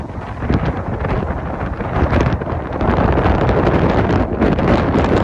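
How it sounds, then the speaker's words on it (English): Strong, cold wind buffets the microphone in heavy, rumbling gusts at Black Rock Overlook on the Appalachian Trail, loud and continuous with no voices heard. "Ooh, she's windy. It's a cold, cold wind too."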